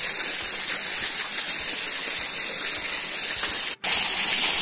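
Waterfall at Bela Vista in Mafra, Santa Catarina, a steady loud broadband rush of falling water that fills the whole clip, cut by one very brief dropout near the end.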